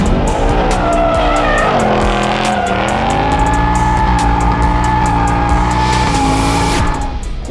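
A Ford Mustang Dark Horse with a naturally aspirated 500-horsepower V8 drifting on an arena track, its engine roaring loud and continuous with shifting revs while the tires squeal and skid throughout, close up.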